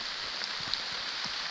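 Heavy rain pouring while cycling downhill through woods: a dense, steady hiss of downpour with faint low thumps from the ride, continuous and close.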